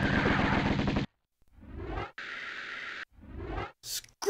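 Bursts of automatic gunfire from the Tomb Raider video game, a loud sustained rattle, a pause, then more rapid volleys and a few short sharp shots near the end.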